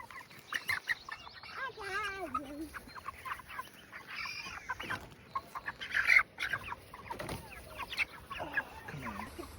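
Chickens clucking and squawking in bursts close by at a farm coop, with scattered chirps and a few quick calls over a busy outdoor background.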